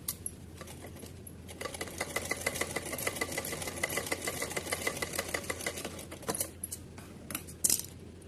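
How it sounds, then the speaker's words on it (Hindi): A sewing machine stitches a straight seam on folded fabric for a small green dress, its needle clattering in a fast steady run after a few short starts, then slowing and stopping with a final clunk. "उल्टा साइड रखने के बाद एक सीधी इस पर सिलाई लगाते हैं"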